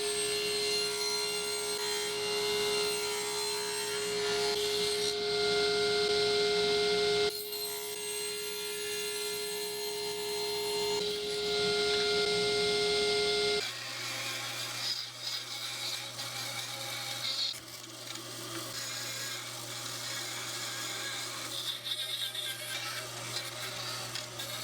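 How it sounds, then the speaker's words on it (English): Steady rasping strokes of a saw cut a slot down the middle of a wooden block for a marble spring gun, continuous and close, with a background hum and no speech. "Now what I'm going to do is cut a slot down the middle of this block"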